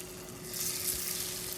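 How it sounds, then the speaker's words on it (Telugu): Amaranth leaf pieces fry in oil in a pan, a soft continuous hiss of sizzling that swells slightly and holds steady, close and without speech. "తోటకూర ముక్కలు వేసి వేయించుకోవాలి ఇలా మెల్లగా తిప్పుకుంటూ మాడకుండా ఫ్రై చేసుకొని తీసుకోవాలి"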